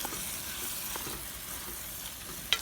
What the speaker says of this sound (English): You stir them in there. Get that pork broken up.